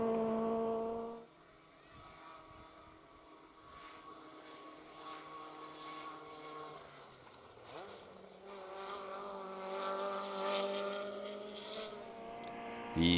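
VW Polo 250 2-litre rally car driving a rally stage, its engine note rising and shifting as it passes fairly close, loud and steady throughout with no talk.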